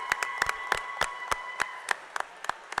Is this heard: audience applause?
yes